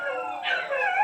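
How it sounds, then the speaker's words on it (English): Several pet dogs howling together indoors, a drawn-out, wavering, fairly loud chorus with yips mixed in, heard alone without talk. "Every time, I say this every video, my dogs bark."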